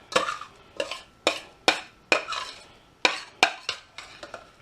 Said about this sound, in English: Lift the mash out into a bowl.